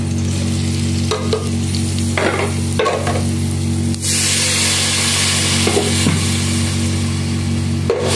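Spices frying in a little oil in a pan for a pumpkin and dried fish curry, a steady close hiss running throughout with occasional scraping stirs.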